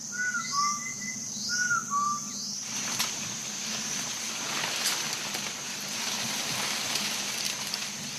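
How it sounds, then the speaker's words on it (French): Distant human whistles answer calls in the jungle, a few short rising and falling whistled notes over a steady hum of forest insects and background noise. "À leurs appels, dans le lointain, un sifflet répond."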